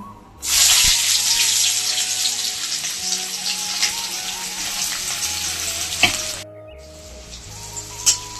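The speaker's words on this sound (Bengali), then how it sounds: "এখন পেঁয়াজটাকে ভালো করে ভেজে নেবো" Chopped onion dropped into hot oil with dried chilli and bay leaves, bursting into a loud, steady sizzle that holds for several seconds, with a couple of sharp utensil clinks near the end.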